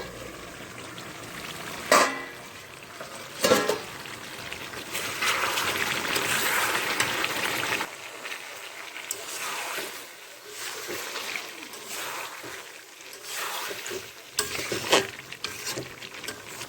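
Chicken kosha cooking in a covered pan as the lid comes off: broad sizzling and frying hiss, swelling loud in the first half, then quieter bubbling with occasional stirring scrapes and clatters.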